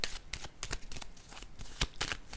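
A deck of oracle cards being shuffled close up, a quick run of riffling snaps and soft papery slaps at moderate volume, with no talk over it.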